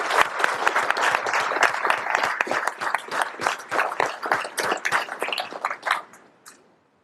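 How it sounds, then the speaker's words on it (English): Applause at an IRT awards ceremony during a joint workshop: a room of people clapping steadily and fairly loudly, individual claps distinct, thinning out and fading to silence near the end. "let's give them a round of applause"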